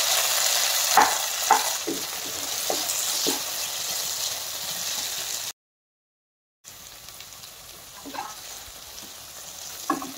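Tender sweet potato leaves and shoots frying in a pan for a traditional Assamese dish, a loud, steady, hissing sizzle with occasional spatters, cutting out briefly to silence before the sizzle resumes.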